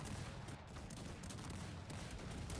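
Dense, continuous battle din from the strategy game Cossacks 3, with cannon fire and musketry booming and crackling together in a thick, unbroken wall of noise and no voices.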